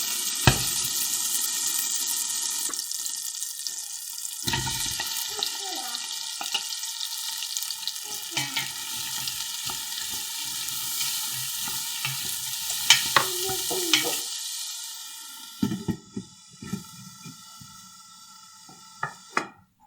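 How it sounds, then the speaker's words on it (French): Onions sweating in melted butter over low heat for a Flemish carbonade, a continuous sizzling hiss with repeated stirring scrapes and clinks that thin out into sparse taps and quieter frying toward the end. "Faire fondre le beurre et faire suer les oignons dedans pendant 10 minutes pour les ramollir"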